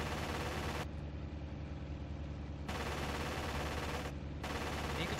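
A .30 caliber aircraft machine gun in the IL-2 1946 flight combat game fires in long bursts of dense rattling, with short pauses, over a constant low engine drone.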